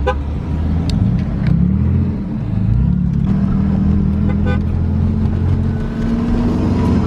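A Cobra car engine runs close by, a loud, steady low rumble with a gently wavering pitch that holds for the whole stretch, no voices over it.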